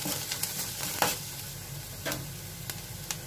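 Steady sizzling of curry leaves and onions sautéing in a hot pan with occasional sharp stirring scrapes and clicks, close up, no voices.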